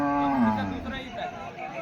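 A single cow lets out a long, low moo close by at the Umarkhed cattle market, fading out after a second or so.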